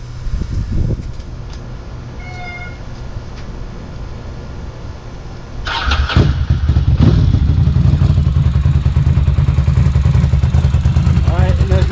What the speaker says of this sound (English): Mobilizer light out, and now the bike will start.